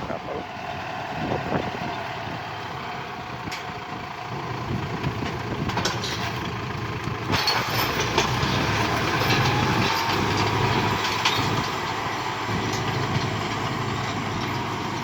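A tractor engine drones steadily and fairly close while pulling a harrow through a vineyard, a continuous low rumble with no breaks across the whole stretch.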